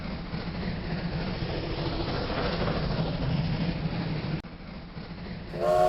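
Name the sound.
model Pennsylvania Railroad Q2 locomotive rolling by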